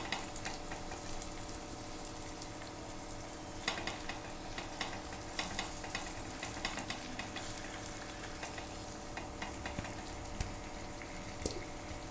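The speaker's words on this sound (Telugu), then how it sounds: "వేగనివ్వాలండి కాసేపు" Fish pieces layered with masala fry in a pan for fish curry, giving a constant faint sizzle with small dripping, crackling pops throughout.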